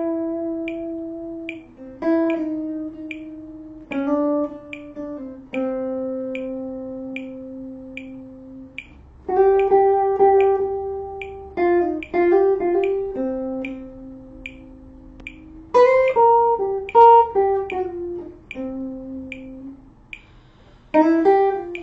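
A guitar plays single notes climbing from C up to C an octave higher, each note ringing out clearly and sustained in turn, with a few quicker runs in between. It sounds solo and close, with no talking.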